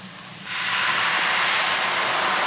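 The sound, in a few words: white wine poured into hot pan, sizzling deglaze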